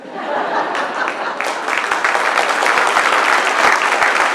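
A crowd at a presidential executive order signing claps steadily, loud applause building and holding for several seconds with a few scattered chuckles mixed in.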